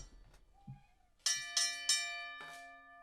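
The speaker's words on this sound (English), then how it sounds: "Let's go ring the bell to kick it off." A bell rings four times at a wrestling event, loud bright strikes spaced roughly a third of a second apart, each one leaving a long metallic ring that slowly decays, after some faint background sounds.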